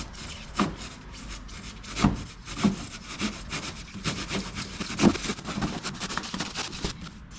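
Saw or blade cutting through a Nissan Titan plastic fender liner, a close, steady rasping rhythm of strokes with a few sharper pulls standing out, no talking.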